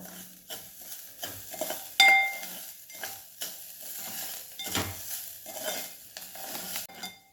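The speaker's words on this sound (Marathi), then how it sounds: "आता आपण जो नारळाचा किस घेतलेला आहे तो यामध्ये घालून घ्यायचा आहे आणि तो पण एक मिनिटभर भाजून घ्यायचा आहे चांगला" Grated coconut being roasted with barnyard millet in a pan for a fasting dish: soft scraping stirs and light clinks of a spoon against the pan repeat in an uneven rhythm over a faint sizzle, fairly quiet and close, with no talking.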